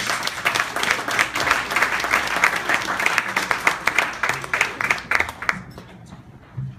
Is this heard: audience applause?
yes